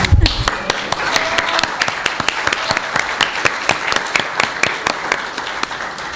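Audience applause at a talk on the Rojava revolution and social movements, a steady patter of many hands clapping close by for several seconds, with a brief voice near the start.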